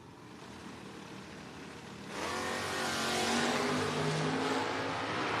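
A 1973 Chevrolet Camaro at a drag race idles with a rumbling engine, then roars loudly from about two seconds in as it launches and accelerates hard, the engine note climbing and staying strong.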